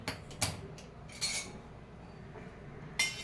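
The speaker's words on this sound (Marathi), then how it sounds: "दूध कोमट करून घेत असताना असं वरचेवर दूध असं हलवायचं आहे चमच्याने" A few short metallic clinks of a spoon against a pot while stirring lukewarm milk, spaced apart, with quiet background between them.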